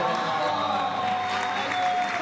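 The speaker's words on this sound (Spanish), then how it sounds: "Un aplauso para Alejandra" An audience at a birthday celebration applauds, producing continuous clapping mixed with crowd noise and a steady tone running underneath, with no clear speech.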